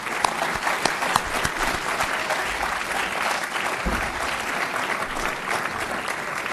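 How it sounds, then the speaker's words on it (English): Audience at a school board of education meeting applauds the athletes and coaches after a spring athletic season, a steady wash of many hands clapping throughout, moderately loud and with no talk over it. "And give yourselves a round of applause."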